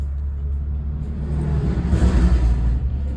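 A car idling in stalled traffic, its engine a steady, close low rumble that swells slightly partway through, with no voices.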